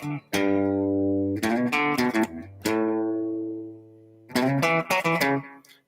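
Guitar running up the major pentatonic scale from the root, single notes plucked and left ringing in short phrases separated by pauses, clean and close with no voices.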